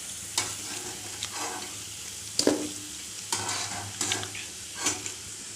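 Urad-dal bonda made from idli batter frying in hot oil, under a constant sizzle with several sharp scraping clatters as a ladle turns them, spaced irregularly about a second apart.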